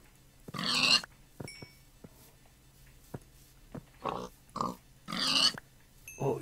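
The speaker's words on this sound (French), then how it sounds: "au niveau de la bouffe là j'ai plein de cochons" Several Minecraft pigs oink and grunt in scattered bursts, with two louder squeals standing out among shorter, softer snorts, fairly close with quiet gaps between calls.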